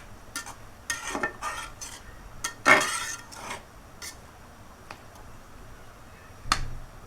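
A drumstick leaf curry with rice starch being stirred in a pot, a series of scattered scrapes, taps and clinks of a spoon against metal, close and fairly quiet, with no talking.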